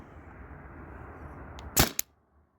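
A Tippmann TiPX paintball marker on HPA fires a 3.6 gram nylon ball through the stock barrel, one sharp loud pop with a quick second crack, following a low background hum.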